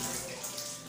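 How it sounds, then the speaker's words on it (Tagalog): Shower water running steadily, a continuous close hiss of spray through the whole moment with no voices. "Shower!"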